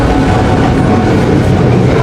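A train rolls along in a film scene, a loud continuous rumbling roar with a dense rattling texture from close by.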